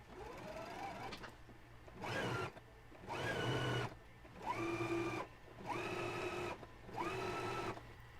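A sewing machine stitches a narrow sleeve hem on a simple summer top, running in several separate bursts with short pauses between them, fairly close and moderately loud with no talking.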